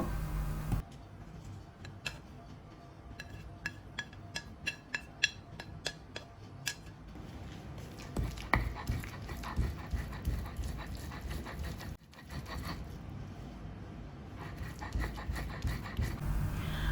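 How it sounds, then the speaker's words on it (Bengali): A stone slab and grinding stone (pata) crush fried onion, garlic and coriander leaves, starting with quick sharp clacks, then giving way to a continuous rough scraping, close and steady. "যেহেতু আমার পাটাটা ছোট তাই আমি দুইবারে এই পেঁয়াজ রসুন ধনে পাতা বেটে নিব"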